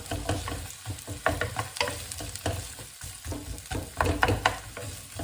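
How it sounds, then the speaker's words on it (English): Onions being bashed and stirred with a wooden spatula in a frying pan, loud close sizzling broken by repeated irregular knocks and scrapes against the pan. "Where's my spatula? Here it is. So we'll sort of bash these onions up."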